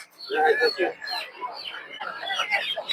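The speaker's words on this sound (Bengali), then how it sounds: "বড় বড় কিছু ফাইটার মুরগি ফাইটার গুলো আপনার চার থেকে পাঁচ হাজার টাকা পিস" Chickens, including large fighter birds, cluck and call at a busy poultry market in Tongi, mixed in with a person talking nearby.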